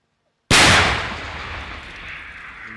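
A single powerful tank gun blast erupts after a moment of silence, followed by a long rumbling, fading echo.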